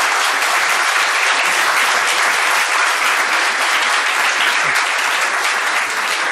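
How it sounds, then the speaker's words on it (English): Loud, dense applause from the audience at a school district board meeting, sustained and even throughout, with no talking over it. "I didn't expect applause"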